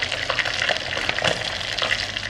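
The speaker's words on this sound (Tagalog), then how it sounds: "Dinipry ko na lang para mas mabilis na maluto." Liver deep-frying in a pan, giving a dense, continuous close-up sizzle with crackling pops throughout.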